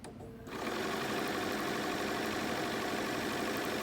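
A sewing machine stitches quilt pieces, starting after a short quiet moment and then running as a loud, steady, rapid mechanical whir and clatter for the rest of the clip, with no talking.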